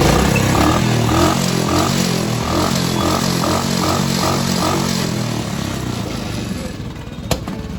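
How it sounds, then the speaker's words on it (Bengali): A motorcycle engine, its air filter being repaired after the bike broke down and began smoking, runs steadily and close by with a loud, rough chugging hum and some clatter, easing slightly near the end. "ভাইয়ের বাইক খারাপ হয়ে গেছে এখন ফিল্টার এয়ার ফিল্টার ঠিক করছে"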